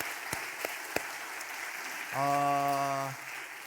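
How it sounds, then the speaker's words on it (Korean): Soft applause ripples through a church congregation during a Sunday worship service, offered in congratulation, with a few distinct claps at first and a brief sustained tone sounding over it partway through. "다시 한번 축하하는 의미에서 더 크게 박수 한번 하시겠습니다."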